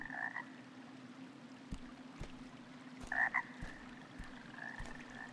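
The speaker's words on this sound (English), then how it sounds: "Okay, I can hear frogs croaking." Frogs croak in the dark dungeon of the video game Arx Fatalis, a few distinct croaks rising over a steady low ambient drone, with soft tapping footstep-like thuds scattered through.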